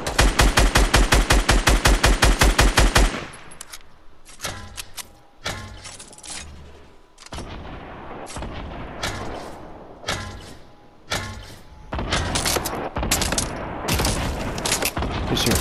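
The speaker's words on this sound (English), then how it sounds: "He shoots you out." Rapid automatic gunfire from the video game Fortnite opens with a loud, dense burst, then gives way to scattered shots and short volleys of varying loudness, some nearer and some farther off.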